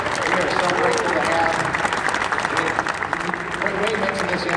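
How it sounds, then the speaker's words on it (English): Steady applause from a crowd, dense and continuous, with clapping filling the whole stretch at an even, moderately loud level. "let's give a nice round of applause for Wayne."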